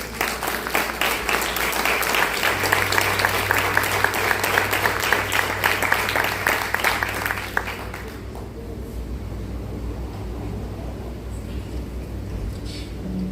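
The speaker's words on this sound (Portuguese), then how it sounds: "vamos aplaudir o nome do Senhor Jesus" A church congregation applauds during a Portuguese-language service, loud continuous clapping for about eight seconds before it cuts off to a quieter room with a low hum and faint voices.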